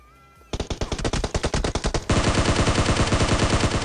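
Rapid gunfire in the mobile battle-royale game PUBG Mobile: a burst of sharp single shots, then a dense unbroken stream of automatic fire, loud and close, with no talking.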